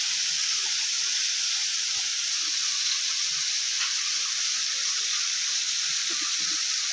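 A small waterfall in a tribal area, where water tumbles steadily and rushes in a continuous broadband hiss. It stays constant and fairly close for the whole stretch, with no voices.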